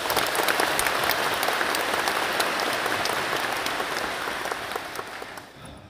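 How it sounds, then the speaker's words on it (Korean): Concert audience applauding at a live music event in Busan, a steady dense wash of clapping that fades out toward the end, with no talk over it. "다 같이 박수 한번 주실까요?"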